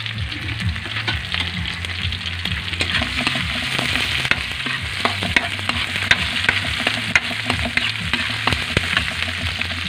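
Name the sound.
frying squid adobo (adobong lukos) in a pan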